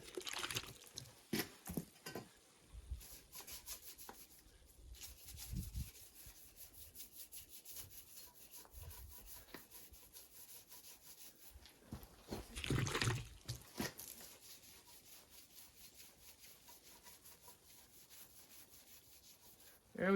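Grease and rust are scrubbed off a motorcycle front fork in quiet, irregular rubbing and scraping strokes, with clusters of harder scrubs and a louder burst near the end.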